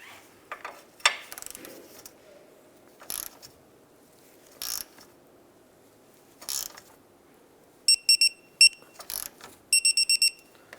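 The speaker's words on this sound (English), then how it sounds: "We're going to go ahead and torque that down to 45 foot-pounds." A torque wrench tightens a control arm bolt on a 2001–2005 Honda Civic with rapid ratcheting clicks in short bursts, then sharp metallic clicks near the end as it reaches torque, close and clear against a quiet garage.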